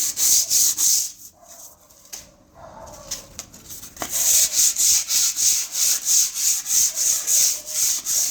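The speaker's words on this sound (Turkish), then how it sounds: "Bakın ne kadar fazlalıkları alıyor zımparamız." Repeated rasping hand-sanding strokes against a plaster wall, pausing briefly in the middle before resuming in a quick steady rhythm, close up.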